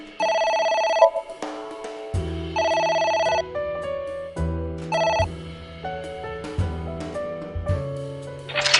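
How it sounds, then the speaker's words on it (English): A telephone rings in the video game AI: The Somnium Files: repeated bright electronic ring bursts, loud and close, layered over tonal game music with shifting notes and no talking. "It's ringing Dante, again."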